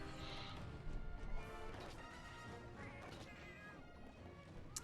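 Cat companion in a Monster Hunter game, heard as short meow-like calls mixed into a busy wash of battle clatter and impacts, with a loud thwack or crash early on.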